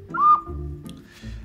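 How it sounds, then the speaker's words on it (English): An ocarina, a small potato-shaped flute with a whistle mouthpiece, sounds one short, pure, rising whistled note, close and fairly loud, followed by low murmuring sound. "Ocarina, a flute-like instrument in a potato shape made from claw or other hard material with a whistle mouthpiece."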